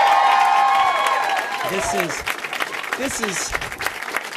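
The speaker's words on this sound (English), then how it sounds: "Give her a big round of applause, Jennifer" Crowd applause and cheering at a political rally in Fairfax, loud and close at first, then easing off while a speaker's voice comes through over the fading claps.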